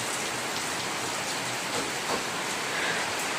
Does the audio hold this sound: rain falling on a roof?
yes